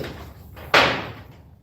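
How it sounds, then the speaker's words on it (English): A big heavy door is pulled shut with one loud whooshing slam, a sharp onset that decays over about a second, close to the microphone with no talk over it. "Let's shut this big door."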